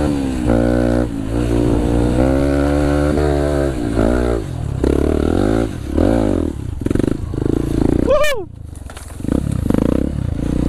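Motorcycle with a stock exhaust labouring uphill with a low, fluctuating roar that rises and falls, close by, with people talking over it.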